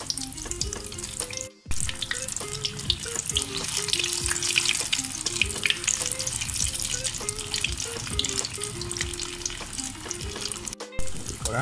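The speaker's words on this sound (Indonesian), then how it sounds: "Kita akan goreng dia sehingga warna keperangan ya." Egg-dipped tofu fries in hot oil, turning golden brown, with a steady, close, loud sizzle and crackle throughout, a brief quiet gap near the start, and faint clinks from stirring.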